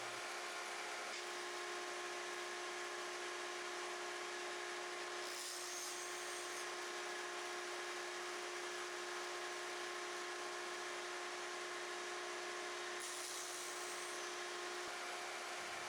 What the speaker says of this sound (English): for edge-to-edge gluing, I'm really liking this Biscuit cutter